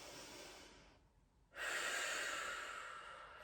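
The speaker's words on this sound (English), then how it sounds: "Pause, breathe into the back ribs. Breathe into the belly and the sternum." Slow, deep yoga breath: a steady airy exhale, a brief quiet pause, then a loud, full breath that stays close and continuous to the end, with no talking.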